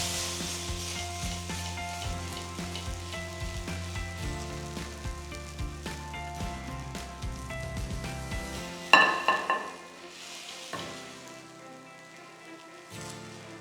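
Pav bread rubbed with masala toasts in a hot pan, giving a steady close sizzle that dies down to a softer crackle near the end; no one speaks, and music plays over it.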